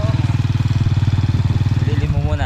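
Small boat motor running on a river, a loud, close, rapid pulsing chug that holds steady before easing near the end.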